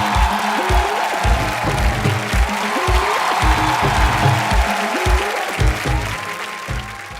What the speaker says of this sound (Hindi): आप सबकी जोरदार तालियों के बीच में सबसे पहले इनवाइट करना चाहूंगा